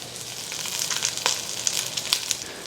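Garlic seared cut side down in a hot pan sizzles in a steady close-up crackle, with sharper pops spiking through here and there and no talking over it.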